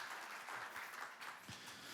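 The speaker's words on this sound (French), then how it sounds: "un applaudissement au Dieu 3 fois saint" A church congregation applauds during a Sunday worship service, dense, steady clapping that sounds faint and distant throughout.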